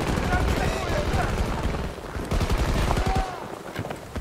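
Rapid gunfire from the Battlefield 2042 video game crackles in dense bursts and single shots, loud and close, with brief gaps between volleys.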